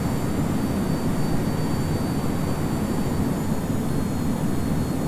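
Steady, loud jet engine roar of a Tornado F3 at approach thrust in a Prepar3D flight simulator, a continuous broadband rumble with no pauses and no talking.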